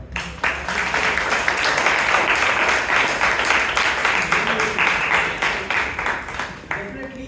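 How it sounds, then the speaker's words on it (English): A Toastmasters club audience gives a round of applause, a loud, sustained patter of many hands for about six seconds that tapers off, with a voice starting to speak at the end. "So a big round of applause for that."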